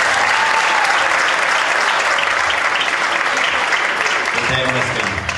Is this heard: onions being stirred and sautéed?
no